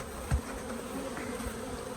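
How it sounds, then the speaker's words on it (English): Honey bees buzzing around an opened nuc hive, a steady low droning hum from many insects close by, with one brief louder thump near the start. "There is bees everywhere."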